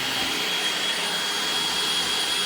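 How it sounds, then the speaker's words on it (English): A drill bores holes for cabinet knobs, giving a steady, loud, close whirring roar that holds without a break throughout. "There's our holes drilled."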